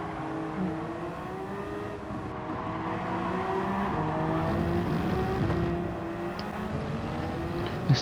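A Toyota race car in a racing sim laps down the Kemmel Straight, its engine a loud sustained whine climbing in pitch through several upshifts, with a second car's drone layered in and no voices.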